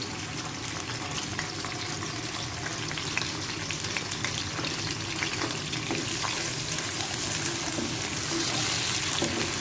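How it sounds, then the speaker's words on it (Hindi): Sliced medium onion frying in hot oil produces a loud, dense, continuous crackling sizzle with light stirring, steady and close throughout. "अब हम प्याज को ब्राउन करेंगे, लाइट ब्राउन साइज से कलर देंगे।"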